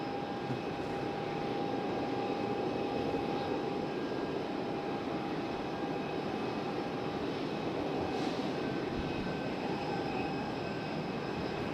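An airliner departs Raleigh-Durham for Orlando, its engines producing a steady, moderately distant roar with a sustained whining tone over broadband rumble for the full length, with no voices.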